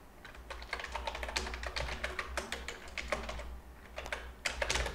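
Rapid keystrokes patter on a computer keyboard in uneven bursts with short pauses, close and quiet.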